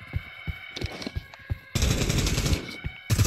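Video game gunfire heard as a sustained loud automatic burst after a stretch of quieter rhythmic thumps, then another burst starting near the end, no speech.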